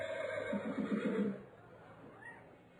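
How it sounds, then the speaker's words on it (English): A horse neigh played as a sound effect over the stadium speakers at a minor league baseball game, a loud whinny with a quivering trill that fades into crowd ambience. "there's not a loose Mustang horse down on the field. That's a sound effect."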